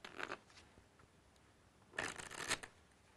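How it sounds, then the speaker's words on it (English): A deck of playing cards is shuffled up close in two quick riffling bursts separated by a short pause, soft and crisp with no talk. "I'm just going to give the card a quick shuffle."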